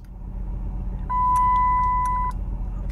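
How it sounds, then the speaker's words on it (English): A car's low fuel warning chimes as a single steady electronic beep lasting about a second, heard from inside the vehicle over a low engine and road rumble, with a few faint clicks around it. "that was my alarm for my low gas"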